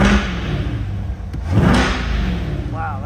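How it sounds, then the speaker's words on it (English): A 2020 Corvette C8 2LT convertible is revved a couple of times up close, its deep engine rumble swelling briefly over a low idle. "let's give it a couple revs"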